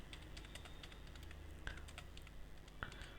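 Typing on a computer keyboard while entering a narration in Tally Prime accounting software: soft, steady, close key clicks in a quick irregular rhythm, with two slightly louder keystrokes, and no talking.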